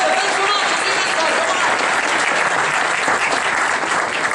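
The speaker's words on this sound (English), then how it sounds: "Round of applause, ladies and gentlemen, for Luca Busman and Orlando Press" A crowd at a CES 2013 tech presentation applauds presenters, a loud, dense, continuous burst of clapping that fills the clip, close and sustained throughout.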